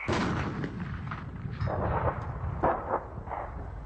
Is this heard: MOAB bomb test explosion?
yes